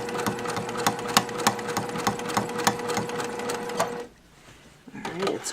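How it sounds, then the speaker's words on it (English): Sewing machine stitching and pulling fabric through quickly, a fast regular mechanical clatter of needle strokes that stops abruptly near the end, followed by a brief quieter pause and a few small handling sounds. "You notice that the machine is pulling my fabric through"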